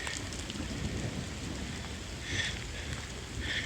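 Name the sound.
heavy rain with thunder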